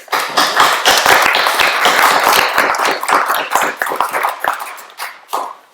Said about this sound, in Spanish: Y un aplauso para ellos también.